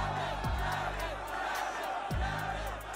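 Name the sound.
concert crowd chanting the performer's name at Astroworld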